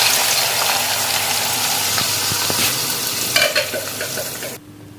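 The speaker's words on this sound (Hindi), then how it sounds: "अब हम इसमें डाल रहे हैं स्लाइसेस में कटा हुआ प्याज।" Sliced onions dropped into hot cooking oil, a loud dense sizzle and crackle with scraping stirs, swelling briefly then cutting off abruptly near the end.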